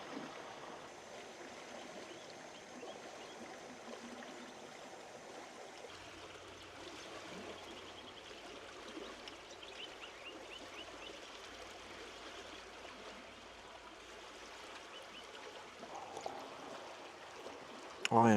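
River stream flowing past a camp spot, a steady broadband rush of moving water heard close and continuous, with a faint low hum entering partway and a brief louder knock at the very end.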